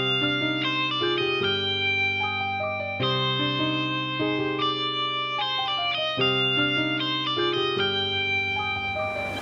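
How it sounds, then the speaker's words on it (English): A sampled hollow-body blues guitar from a Kontakt library, Junkyard Jam preset, plays a steady pattern of sustained chords and single notes at varied velocity, moderately loud and alone, with a soft echo tail. "the Hollow Body Blues bank sounds like this."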